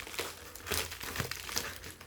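Continuous crinkling and crackling of plastic packaging being handled while MGC 4x4 and 5x5 speedcubes are unboxed, close up, with irregular sharp crackles and no talking.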